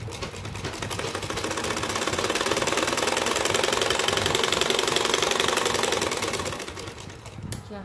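A sewing machine runs steadily for about six seconds, its needle chattering in a fast, even rhythm while stitching a blouse with a bukram front and back neckline, then slows and stops near the end.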